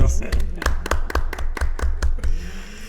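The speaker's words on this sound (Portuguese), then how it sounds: "Palmas para eles." A handful of people clap in sharp, distinct claps, close and loud over a low background hum during a podcast-style conversation, ending after about two seconds.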